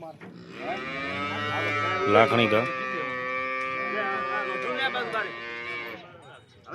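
Cows at a livestock sale in Lakhani village give a long, loud, drawn-out moo close by, overlapping with people talking nearby.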